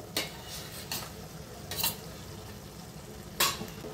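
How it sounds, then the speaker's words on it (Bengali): Faint low sizzle from a pan of pointed gourds (potol) with potatoes, broken by four sharp spatula scrapes or clinks against the pan as the gourds are stirred. "পটলগুলো দিয়ে একবার ভালো করে নাড়িয়ে"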